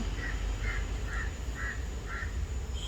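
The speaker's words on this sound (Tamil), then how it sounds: "அது ஒரு காக்கா கற்றுது பாருங்க" A crow caws five times in an even, steady rhythm at moderate distance over constant background hum and noise, with a sixth call starting at the end.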